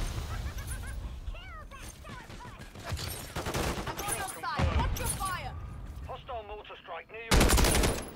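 Gunfire rattles through an online shooter game in scattered bursts mixed with other game sounds and voices, ending in one loud, dense volley.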